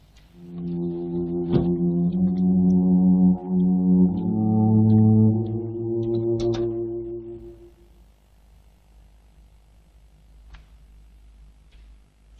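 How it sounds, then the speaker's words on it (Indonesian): An old car horn sounds in long, sustained honks, two or three overlapping blasts with a brief break, loud and close, then fading to quiet background for the last few seconds. "Simbo enggak dengar saya bunyikan klakson."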